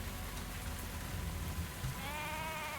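A sheep bleats briefly near the end, wavering and fairly faint, over a steady bed of rain in the tavern video game Tavern Talk.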